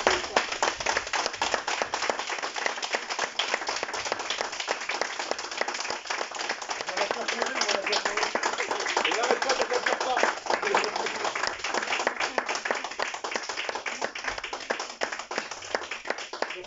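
A seated audience applauds a woman named Christelle at a university health-system certificate ceremony in Caen, with dense, steady clapping that carries on unbroken for many seconds at an even level.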